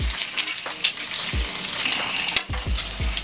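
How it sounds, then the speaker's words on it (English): Bacon strips frying on a flat top steel griddle, a loud close crackling sizzle with scattered pops and a few scraping clanks of a spatula, alone without talk. "the bacon's cooking up nice"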